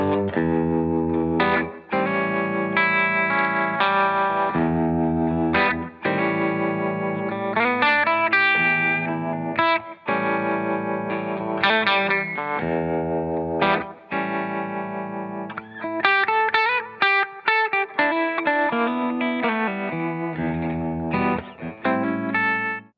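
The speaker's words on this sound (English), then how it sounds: "as soon as I clicked on the dirt and started playing with distortion" A distorted electric guitar plays a stream of chords and riffs, loud and crunchy, with short pauses between phrases.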